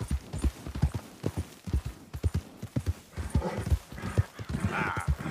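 A horse in Red Dead Redemption II gallops with steady, rhythmic clip-clop hoofbeats, loud and close, with a brief whinny and snorting breaths near the end.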